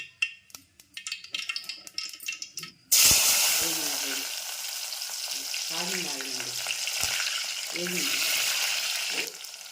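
Oil bursts into a loud, steady sizzle in a pan and keeps frying for a tempering of seeds and curry leaves, while a voice speaks faintly over the hiss.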